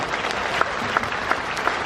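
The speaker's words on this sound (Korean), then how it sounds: "큰 박수 한번 더 보내주시기 바랍니다." An audience at an oriental medicine and bio industry expo opening ceremony in Jecheon applauds in an even, continuous wash of clapping, with a few faint regularly spaced tonal blips beneath.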